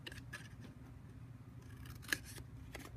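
Scissors snip through scored cardboard to cut a square off a box, giving several quiet, close, crisp cuts with one sharper snap near the end.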